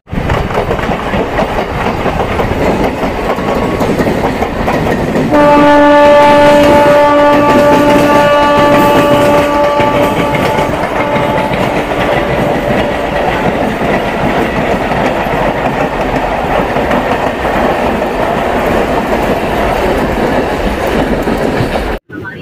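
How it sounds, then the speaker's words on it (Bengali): Local train pulling out of Panskura Junction station in West Bengal, steady loud rail rumble and wheel clatter throughout, with a sustained horn-like tonal blast for several seconds near the start. "আর আমাদের ট্রেনটা এখন ডিপার্চার করছে পাঁশকুড়া জংশন স্টেশন থেকে।"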